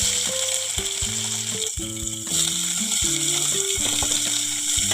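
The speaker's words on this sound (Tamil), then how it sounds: "வெங்காயம் நல்லா வதங்கட்டும்." Onions sizzle steadily in hot oil with cinnamon and cloves, a constant crackling hiss under a simple melody of background music.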